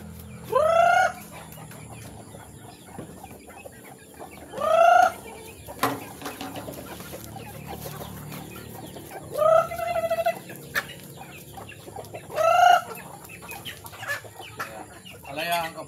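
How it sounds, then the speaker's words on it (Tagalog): Chickens on a farm cluck and squawk in four loud bursts spaced a few seconds apart, with quieter clucking and low background noise between them. "Ito yung mga manok ko."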